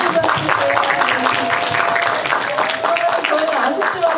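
Cinema audience claps during a film stage greeting at a small theater, continuous dense applause at close range, with a voice speaking over it.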